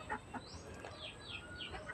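Pet chickens clucking and squawking at feeding time, several short bursts and rising calls from nearby birds, fairly faint and unaccompanied by talk.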